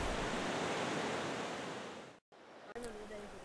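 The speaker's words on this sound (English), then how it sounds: "An overnight thunderstorm has swollen the river with muddy water." Muddy river swollen by an overnight thunderstorm rushes through a gorge in the Spanish Pyrenees, a loud, dense, steady roar that cuts off abruptly near the end and gives way to quieter outdoor ambience.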